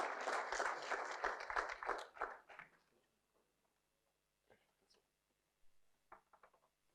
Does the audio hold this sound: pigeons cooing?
no